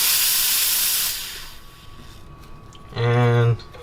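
An espresso machine steam wand purges, giving a loud hiss that cuts off, then after a quiet pause a second short, strong blast of steam.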